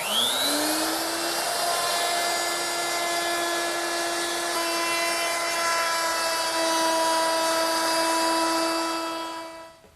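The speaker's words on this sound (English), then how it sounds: "I'm going to use my 1/4 inch rounding over bit" A router fitted with a 1/4-inch round-over bit milling the edges of ash boards for a drop leaf table: the motor spins up into a loud, steady high-pitched whine that holds for about ten seconds, then cuts off at the end, with no talking.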